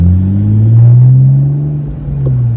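A 2016 Chevrolet Camaro V6 with a six-speed manual pulls hard through bends, its deep engine rumble swelling loud and close, then easing briefly before building again.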